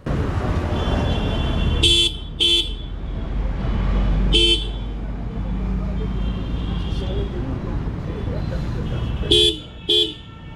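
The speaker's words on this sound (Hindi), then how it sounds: "एक बार मैं आपको इसके हॉर्न की आवाज़ सुनवाता हूँ" A TVS Apache RTR 160 motorcycle horn beeps several times: a double toot, a single blast, then another double toot, loud and near over a rumbling engine and road noise.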